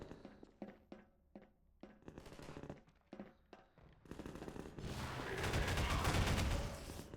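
Gunfire from a weapon in Half-Life 2 Episode One: a string of sharp, separate shots, then a dense, loud sustained burst of automatic fire that builds toward the end.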